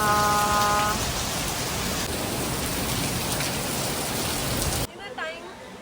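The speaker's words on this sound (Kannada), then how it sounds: "ಸಂಜೆ ಫುಲ್ ಮಳೆ." Steady, dense rain falls through an evening, a continuous loud wash of drops that fills the scene before fading into quieter sounds and a brief voice near the end.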